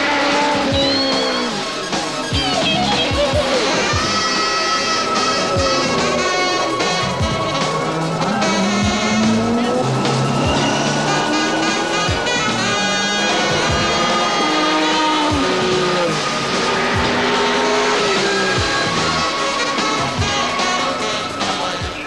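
Audi Quattro race cars from late-1980s American racing roar through turn one just after the start, a loud continuous engine wail with shifting pitches and tire squeal as several cars jostle for position, no voices.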